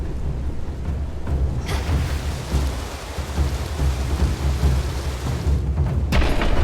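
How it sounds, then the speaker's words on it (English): A storm in the video game Hades II brings steady, heavy rain with low rolling thunder that swells and booms throughout, loud and continuous with no voices. "Shelter from the storm."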